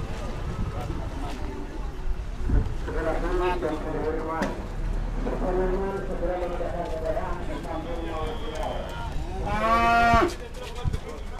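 Cattle low repeatedly from inside a livestock truck, with several drawn-out moos rising over a steady rumble and shuffling, the loudest near the end; people talk alongside.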